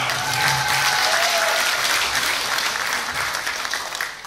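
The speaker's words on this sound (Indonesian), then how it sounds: "Tepuk tangan untuk Awan Gunawan" Audience applause for Awan Gunawan at a Sedekah Rombongan anniversary charity event, steady dense clapping filling the room for several seconds with a faint voice early on.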